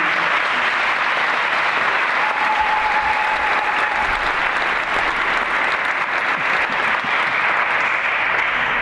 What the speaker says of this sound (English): Can we say a round of applause for the committee?